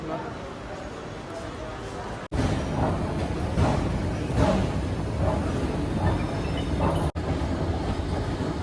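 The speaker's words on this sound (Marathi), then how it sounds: "काहीच आपली ट्रेन सुद्धा आलेली आहे. 6:14ची ट्रेन आहे ही." A local train pulls into Bhayandar station, its steady loud rumble and rhythmic rattling filling a crowded platform, with voices of people talking throughout.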